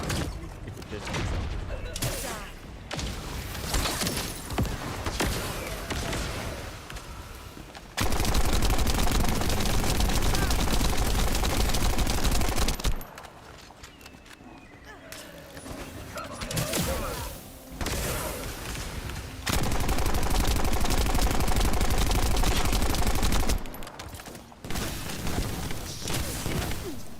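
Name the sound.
assault rifle gunfire in a video game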